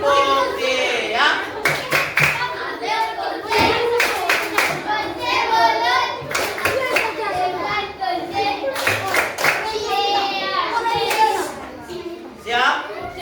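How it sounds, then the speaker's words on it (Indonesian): Children in a classroom clap in rhythmic bursts, sharp clustered hand claps recurring through the clip while a lively mix of kids' voices and chatter carries on underneath. "Oke, tepuk ya."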